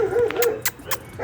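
A dog barks a few short, sharp times close by on a rainy day at a house being soft washed, with brief yips between the barks.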